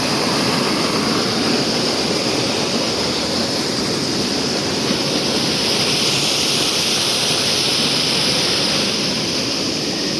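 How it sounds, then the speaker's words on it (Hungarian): Steady, loud rush of mountain streams running near the Souli watermills above the Acheron river in Epirus, Greece, a constant broadband water roar with no voices. "mindenhol egy kis patak, egy kis csorgó"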